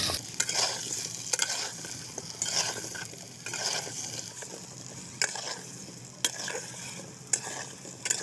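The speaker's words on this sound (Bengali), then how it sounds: "আলুগুলো খুব সুন্দর করে ফ্রাই করে নেওয়া হয়ে গেছে।" Potatoes frying in mustard oil with turmeric and salt, stirred with a utensil: a steady close sizzle with repeated sharp scraping strokes against the pan, no voices.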